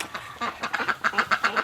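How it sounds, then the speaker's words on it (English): Ducks quack in a quick run of loud, close calls while sunning themselves in a pen on a winter day, about a dozen evenly spaced quacks with no talk. "The ducks are enjoying the sun."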